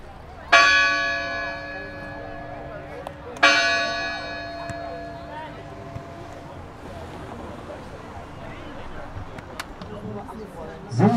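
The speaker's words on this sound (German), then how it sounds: "So, mit dem Glockenschlag geht's los." A church bell strikes twice in Bremen, each loud ringing stroke decaying slowly, before the start of a city sightseeing tour on the Stadtmusikanten Express, with outdoor ambience and faint talk afterward.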